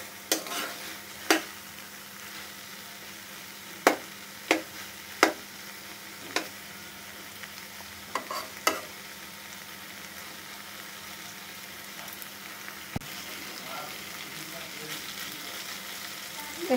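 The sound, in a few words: spice paste of ginger, garlic and cumin frying in oil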